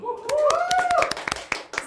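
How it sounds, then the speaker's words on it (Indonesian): A few people clap hands briefly in sharp, irregular bursts, close and fairly loud, while a voice speaks over the start. "Tepuk tangan dong."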